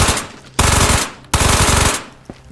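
Loud bursts of automatic Mac 10 fire in the VR shooter Ghosts of Tabor, two long rapid strings of shots close by, separated by a brief gap and followed by a single trailing shot.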